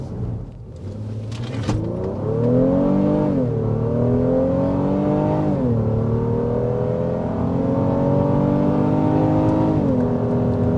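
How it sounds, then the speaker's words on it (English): A 2023 Honda Pilot Elite SUV accelerates uphill in standard drive mode, its engine note climbing steadily through several gear shifts heard from inside the cabin, loud and continuous with no talk. "Feels nice and strong. I say that's a typical acceleration for this class."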